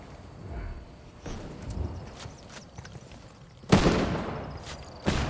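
Scattered gunshots in a Ghost War match ring out at a distance, a few sharp isolated cracks, the loudest near the end, over faint background ambience.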